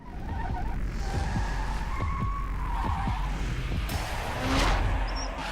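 A drift-spec Lamborghini Aventador with a massive exhaust drifts in the racing game The Crew Wild Run, its steady engine roar carrying continuous tire skidding and squeal, with a brief whooshing burst near the end.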